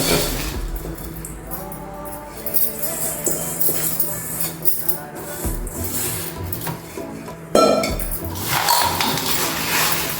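Poha mixture tossed in a bowl to mix, heard as close, repeated rustling and scraping of dry flakes against the bowl with occasional metallic clinks and a louder rattle near the end, with no voices.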